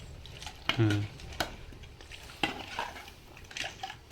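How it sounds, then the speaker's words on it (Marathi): A spoon stirs village-style crab curry in a pot, giving a few scraping, clinking strokes against the metal amid light kitchen noise, with a voice talking in between. "असं हलवून घेते आता चमच्याने"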